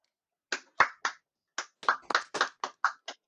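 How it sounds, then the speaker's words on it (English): Scattered hand claps at a virtual signing ceremony, a dozen or so sharp separate claps spread irregularly over a few seconds, close and fairly quiet, with no voices. "Ladies and gentlemen, please join me in a big round of applause."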